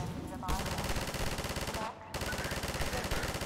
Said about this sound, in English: Half-Life 2 turrets are just so satisfying